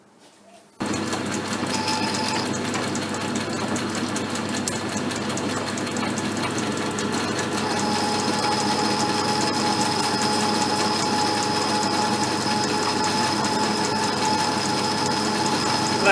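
A Bridgeport milling machine takes a trial cut on a small bar with noticeable overhang, giving a steady, close mechanical whir with a continuous grinding hum. A brighter high cutting tone joins partway through and holds to the end.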